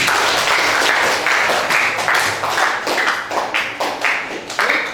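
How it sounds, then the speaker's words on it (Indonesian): Applause from a classroom group, dense clapping that stays steady and fairly loud, then thins into looser, more separate claps toward the end. "tepuk tangan untuk teman kita semuanya"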